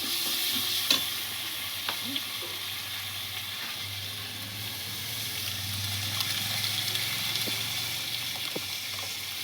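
Lentil dal pours into a hot pan of fried coriander leaves and hisses into a steady, loud sizzle, with a few soft stirring knocks and bubbling under the continuous frying noise.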